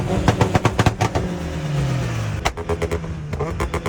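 A turbocharged Lada car engine revs hard in sharp bursts with a turbo whine rising between pops and bangs, flames shooting from the exhaust, loud and nearby.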